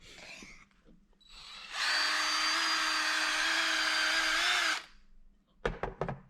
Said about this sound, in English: you could even use a drill